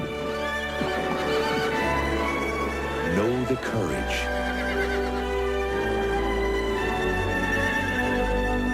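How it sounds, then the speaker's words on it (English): A horse whinnies loudly with a rising and falling neigh, over hooves, swelling music and a voice speaking in a trailer for the 1994 film Black Beauty. "Beautiful horse."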